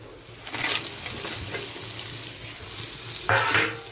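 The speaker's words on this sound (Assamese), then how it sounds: "এতিয়া এইখিনি আৰু বঢ়িয়াকৈ লৰাম" Spices sizzle in a hot pan with fried crab and potatoes as a utensil scrapes and stirs them, with two louder bursts of stirring.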